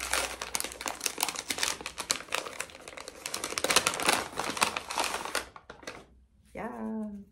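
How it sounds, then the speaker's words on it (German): A small paper advent calendar bag crinkles and rustles close up as it is unwrapped in dense, irregular bursts, then a voice speaks briefly at the end. "weil ich immer nur an ungeraden Tagen ein Tütchen auspacken darf"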